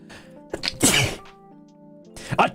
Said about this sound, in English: Achoo! Sorry about that.